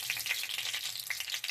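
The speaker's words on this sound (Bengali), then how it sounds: "তেল দিয়ে দিচ্ছি কড়াইতে, তেল গরম হয়ে গেছে, বড়িগুলো দিয়ে দিচ্ছি। নেড়ে চেড়ে বড়িগুলো ভাজা করে নেবো।" Lentil dumplings (bori) frying in hot oil in a wok give a steady, close sizzle with crackling bursts and faint stirring scrapes throughout.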